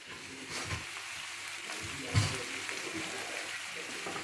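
Pepper and seasoning being stirred together for a chicken msemen filling, a close, steady wet scraping and sloshing with a couple of louder knocks against the bowl, no talk over it.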